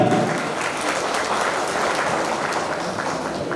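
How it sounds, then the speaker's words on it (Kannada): An audience claps loudly and continuously, a dense sustained burst of applause filling the space without pause. "ಅವ್ರಿಗೆ ಚಪ್ಪಾಳೆ ಹೊಡೆದು ಬರ್ತಾರೆ"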